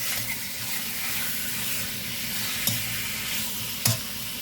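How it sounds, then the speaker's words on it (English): A pot of low-sodium shrimp and chicken ramen is stirred over the heat, giving a steady loud hiss with a couple of sharp knocks from the utensil against the pot. No voices are heard. "Let me stir this around."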